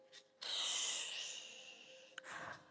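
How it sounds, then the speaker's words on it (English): A loud, forceful exhale during a core workout, a long breathy rush close to the microphone followed by a second shorter breath. "loud breath, right? You really want to use that breath."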